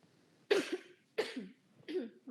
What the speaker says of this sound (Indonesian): maaf ya saya batuk-batuk.